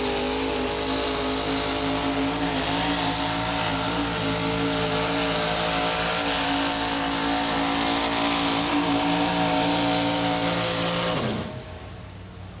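A pulling truck powered by a 216 Chevrolet six-cylinder engine runs hard and loud for about eleven seconds, a steady strained roar that suddenly cuts out near the end, leaving quieter background noise.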